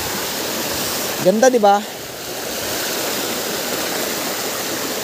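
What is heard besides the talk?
waterfall in a stream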